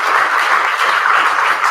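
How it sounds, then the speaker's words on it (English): An audience applauds at a Teachmeet history gathering, a steady dense wash of clapping filling the room without pause, fairly loud and close, with no voices standing out. "So round of applause for them, please."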